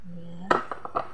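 A utensil scrapes and knocks against a pan as pork afritada ingredients are mixed, with a few quick clinks following a low hum, close and moderately loud.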